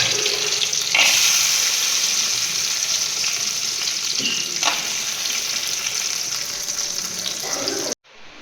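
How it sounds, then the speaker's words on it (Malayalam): Freshly washed cashew nuts frying in a pan for semiya payasam, a loud, constant sizzle and hiss with a few clinks of stirring, cut off abruptly at the end. "നമുക്കത് വറുത്തെടുക്കാം."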